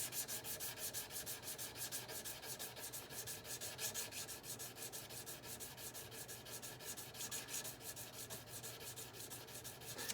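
Continuous rhythmic rubbing of 800 grit abrasive polishing the frets of a Martin dreadnought acoustic guitar, a soft, even scratchy stroke repeated back and forth at close range with no talking.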